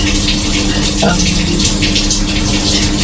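A Samsung top-loader washing machine runs with water moving inside, a steady, low, even wash sound holding at the same level throughout with no distinct clunks or spikes.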